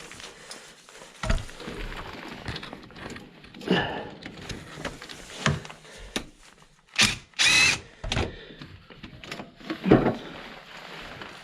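An impact wrench works bolts loose on a 2007 VW Beetle, giving several short, sharp rattling bursts separated by quieter gaps and clanks of tools in a garage.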